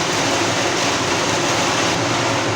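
Heavy rain pours outside in a dense, unbroken hiss, loud and close, with a steady low rumble beneath and no gaps or voices across the stretch.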